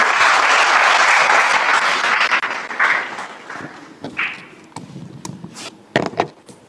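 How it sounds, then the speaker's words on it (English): An audience clapping at a tech talk, a loud dense burst of applause that thins into scattered claps and fades over a few seconds. "Let's clap for him."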